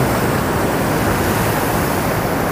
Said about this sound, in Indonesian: Tuh deburan ombaknya.